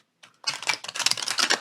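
A deck of oracle cards is shuffled close by, a quick run of crisp riffling and flapping card sounds after a brief soft start.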